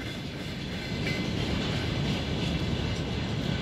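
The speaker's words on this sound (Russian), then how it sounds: "Вот это поезд, на котором мы приехали. Сейчас он поедет дальше." A passenger train pulls away from a snowy station with a loud, continuous low rumble of rolling wheels and cars that grows a little stronger after the first second, with no talk.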